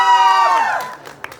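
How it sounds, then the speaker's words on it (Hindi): A crowd at a sangeet celebration cheering and whooping for a guest, a loud burst of many voices that fades within a second, ending in scattered shouts. "Make some noise for Shivani."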